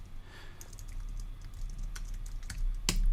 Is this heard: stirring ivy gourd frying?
no